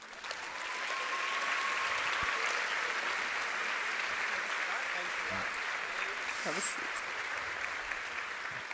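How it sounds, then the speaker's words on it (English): Sustained applause from an audience at the closing session of the 2025 European Youth Event, a dense steady clatter of clapping that fills the whole stretch, with faint voices underneath. "Please join me in giving a big round of applause, Rares Voicu"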